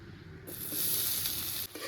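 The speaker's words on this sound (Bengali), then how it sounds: "পেঁয়াজ কুচিটা একদম লাল লাল করে একটু ভেজে নেব" Chopped onions dropped into hot oil already seasoned with nigella seeds and dried chillies for a fish roe curry, a loud sizzle that bursts up suddenly, holds as a bright hiss, then cuts off briefly before resuming.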